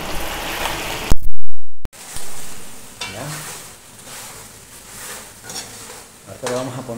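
Pork chicharrón frying and browning in a pan with a steady sizzle, broken by a sharp clatter and a moment of silence near the start, then continued frying with occasional stirring scrapes.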